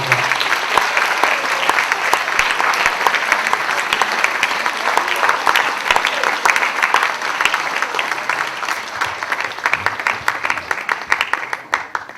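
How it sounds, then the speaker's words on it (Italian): Sustained applause from a large audience at an inspirational talk, dense steady clapping that carries on for about twelve seconds before thinning out slightly at the end. "Facciamo un applauso."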